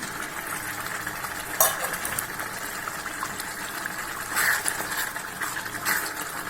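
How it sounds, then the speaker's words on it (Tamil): Tomato fry simmering in oil in a pan, a low steady bubbling sizzle with occasional scraping and clinking spoon strokes, a few slightly louder stirs spaced throughout. "கிண்டிக்கிட்டே இருக்கணும்."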